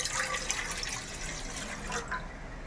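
Water poured steadily to fill two drinking glasses, a continuous bright splashing and trickling that runs unbroken for a few seconds, close by, with no talking.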